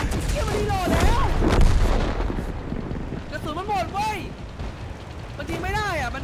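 Tank cannon fire in the World of Tanks video game, heavy booming shots mixed with game noise while people talk over it.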